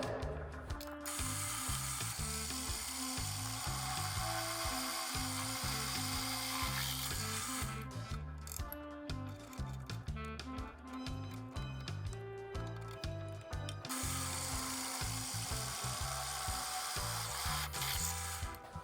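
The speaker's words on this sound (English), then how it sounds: "Next, I'm going to drill the 3/8 inch holes for the U-bolts to go through." A drill press boring 3/8 inch holes through a metal bracket for U-bolts, with a continuous grinding, ratcheting buzz that pulses rhythmically and dips in a middle stretch before resuming, close and fairly loud.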